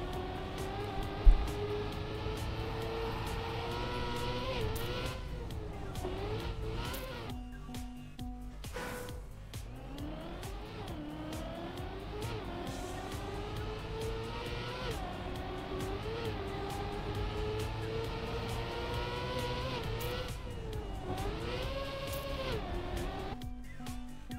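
Racing cars roaring continuously around an autodrome circuit, with engines sweeping up and down through gear changes, loud and sustained throughout with brief dips between passes.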